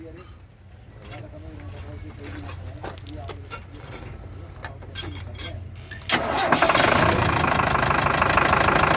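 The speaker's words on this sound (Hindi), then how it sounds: "अब इसके बाद हम न्यूट्रल करके गाड़ी को स्टार्ट करके देखेंगे।" A Tata 1109 BS3 diesel truck with a starting fault cranks over amid workshop noise and voices, then its engine catches near the six-second mark and settles into a loud, steady, rattling diesel idle.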